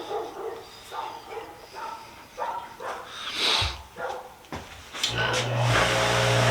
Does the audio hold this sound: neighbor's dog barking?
yes